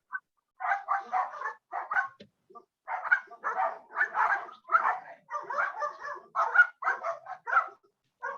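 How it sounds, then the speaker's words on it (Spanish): Several dogs bark in an irregular run of sharp, fairly faint yaps and short whimpering barks, heard at a distance with nothing else around them. "A alguien se le revolvieron los perritos también"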